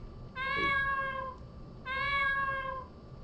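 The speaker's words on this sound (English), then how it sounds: "The cat is staring intently at Kiku." Two drawn-out meows from a cat in the horror video game Siro Oni, each lasting about a second with a slight pause between, clear and close over a quiet game background with no talking.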